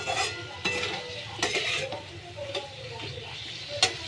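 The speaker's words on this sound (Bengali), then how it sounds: "বেশ ভালো করে সুন্দর করে কিন্তু এটা নাড়াতে হবে।" Colocasia and bhetki fish curry stirred in a pan: a metal spatula scrapes and taps against the pan in uneven strokes over a low sizzle of oil, close by.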